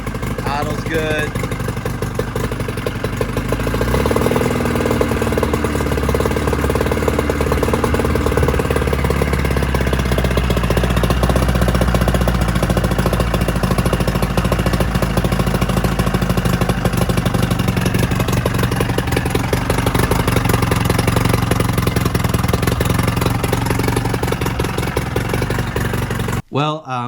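Close and loud, a 1956 Johnson 30 horsepower outboard motor idles on a garden hose flush adapter, a continuous rapid putter with some clatter and slight changes in pitch, running steadily for nearly half a minute before stopping abruptly.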